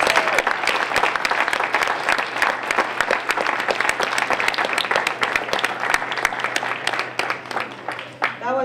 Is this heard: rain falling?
no